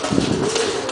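A buchón gaditano pigeon, a young bird from this year's brood, gives a brief low cooing call close by against a noisy, breathy background.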